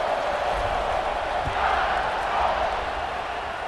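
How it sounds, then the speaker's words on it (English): Stadium crowd noise in the College Football 26 video game, a steady loud roar of fans before a kickoff, with a commentator talking over it. "this crowd now ready to get behind them"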